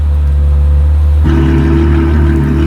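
A loud, close Ferrari 812 GTS engine with a Novitec sports exhaust rumbling steadily, then stepping up in pitch and intensity as it revs, with a deep exhaust drone throughout.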